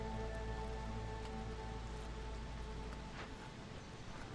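Soft drizzle patters steadily and faintly over a quiet low hum in the video game Against the Storm.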